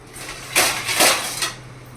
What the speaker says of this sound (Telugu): చూడండి, మూత పెట్టేస్తున్నాను.